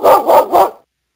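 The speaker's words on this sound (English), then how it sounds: "I'm fairly certain that this is a Doberman." A Doberman in the video game The Visitor barks three times in quick succession, loud and close, each bark deep and full-bodied, then silence.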